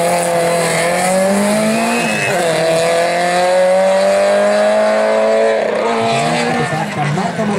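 A rally car at Rally Nova Gorica roars loudly close by, its engine note holding high and steady before it shifts and fades slightly. A voice can be heard under the engine.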